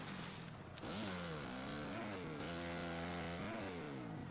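Motocross bike engine in MX vs ATV Alive revving hard and steadily, its pitch climbing and dipping through gear shifts as the bike launches off the start, loud and close with no talk.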